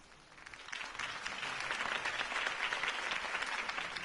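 Video-game crowd applause after a campaign speech for Harvey Dent, a steady wash of clapping that swells in within the first second and holds at moderate volume.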